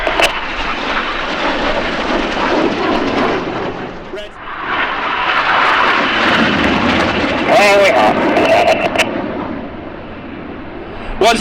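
RAF Red Arrows jets diving to about 300 feet during an aerobatic display pass at the Midlands Air Festival: a loud, broad jet roar builds and swells across the clip, fading briefly before surging again, with a commentator talking over it.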